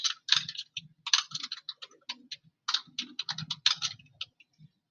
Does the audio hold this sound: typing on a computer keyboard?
yes